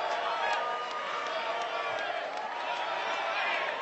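A debate hall audience breaks into sustained cheering and clapping, a dense steady wash of crowd noise with scattered whoops, loud and continuous.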